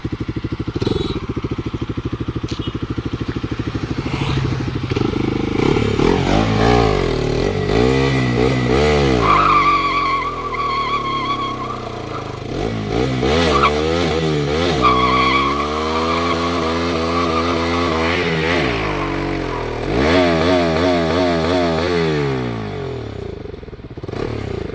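A Bajaj Pulsar NS 200 motorcycle does a burnout: the engine revs loudly and repeatedly, rising and falling in pitch, while the tire squeals and skids continuously underneath, with no talking.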